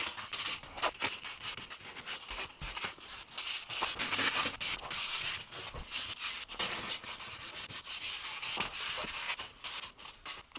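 New wooden baseboards being hand-sanded before painting, a close, continuous rasping rub in quick back-and-forth strokes with short pauses between passes.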